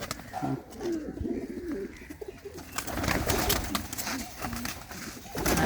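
Pigeons at a Punjabi pigeon keeper's loft, including old desi birds, coo repeatedly in low rolling calls, close by, with some rustling and handling noise throughout.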